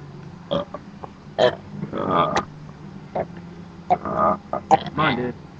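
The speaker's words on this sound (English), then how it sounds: "I'm gonna see the first burp, and it might top the scale." Loud, croaking burps in a burping contest, a few rough bursts spread through a noisy room with people talking and reacting around them.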